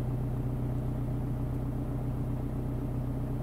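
A Vauxhall Insignia engine idles at about 933 RPM, giving a steady, low rumble with a constant pitch, close and moderately loud, and no talking over it.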